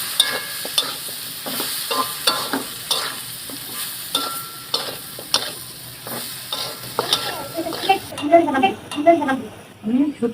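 A spatula scrapes in regular strokes through ground spices, including coriander powder, stirred into frying dried loitta fish and new potatoes over a constant sizzle; a voice briefly speaks near the end.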